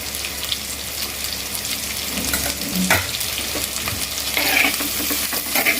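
Onions with turmeric being stirred in a pan, a brisk close sizzle broken by spatula scrapes and clinks, continuous and fairly loud, with no voices.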